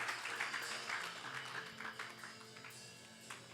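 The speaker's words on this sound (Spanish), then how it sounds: "Dale un aplauso a Cristo." A congregation at a church service applauds, producing a faint, dense wash of many hands clapping together that holds steady from start to finish.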